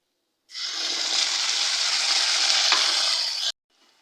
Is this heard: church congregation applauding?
no